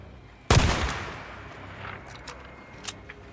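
In the zombie game Days Gone, a single loud, close gunshot cracks out and rings off into a decaying tail, followed by fainter scattered clicks and sounds.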